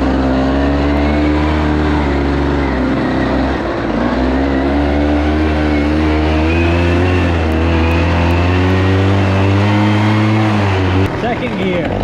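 A Rokon 2x2 all-wheel-drive mototractor motorcycle pulls away in first gear, its engine droning loudly and steadily with a rising, wavering pitch through the run, close up, and a shift near the end.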